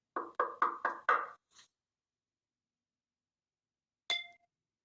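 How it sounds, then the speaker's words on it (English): Five quick loud knocks on a door in a close, even rhythm, then a faint sixth tap, followed by silence and a single short metallic clink. "Surprisingly soon, there was a knock at the door."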